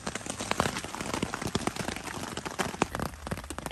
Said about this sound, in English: It's starting to get a bit rainier now.